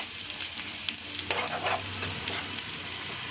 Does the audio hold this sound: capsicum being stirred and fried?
yes